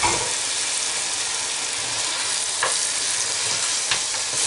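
Mutton, 1 kg, stirred with onions, tomatoes and garlic in a hot curry pan gives a steady, loud broadband sizzle, with a couple of brief scraping stirs near the end.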